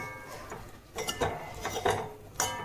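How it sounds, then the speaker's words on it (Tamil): A metal spatula chops egg chapati on a hot pan, kothu parotta style, giving a run of irregular clanking scrapes and taps, close and fairly loud, with no talk. "நம்ம இதை கொத்து பரோட்டாக்கு கொத்துற மாதிரி இப்படி கொத்தி விடணும்"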